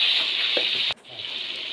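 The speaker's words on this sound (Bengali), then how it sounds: "রসুন বাটা দেওয়া হচ্ছে, তারপরে দিয়ে দিচ্ছি জিরা বাটা।" A paste of garlic and cumin added to browned onion sizzles in hot oil, giving a loud steady hiss that drops sharply for a moment and then builds back up.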